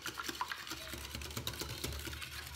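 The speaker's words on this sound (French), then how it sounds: "Et je mélange." Muffin batter of milk and oil being stirred in a bowl, a faint, soft sloshing with light scraping taps against the sides, steady and close.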